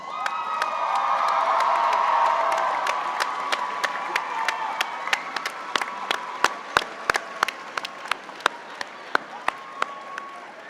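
Applause and cheering fill the hall at a university graduation ceremony, a dense roar of clapping with whoops that peaks early, then thins into scattered individual claps and sharp pops toward the end.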